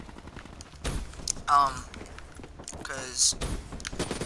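Heat Wave gun fire in a video game, heard as a few short, sharp bursts mixed under steady talking.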